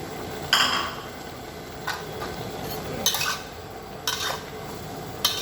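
Chicken stir-fried with chili and bell peppers in a pan, with a spatula scraping and clanking against the metal every second or so over a steady soft sizzle, close up and with no talking.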